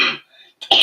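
An allergy cough: a person gives a throaty clearing sound, then after a short silence lets out one sharp, loud cough close by.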